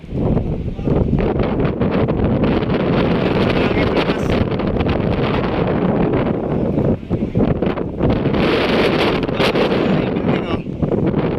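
Strong, steady wind of a coastal sandstorm in Manila roars and buffets the microphone without letup, a dense rushing noise with gusty surges near and loud.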